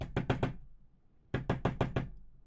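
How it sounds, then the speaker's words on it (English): A person reproduces knocking on a second-floor window: two close, crisp sets of four quick knocks separated by a short pause, loud and dry with no talk. "sounds like someone's knocking on my windows"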